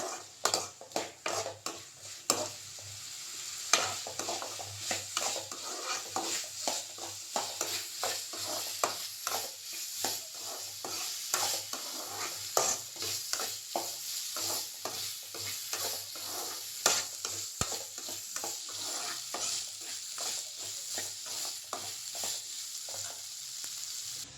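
Potatoes sautéing with paste in a pan for a home lunch, a soft continuous sizzle under repeated close clinks and scrapes of a spoon stirring the pan.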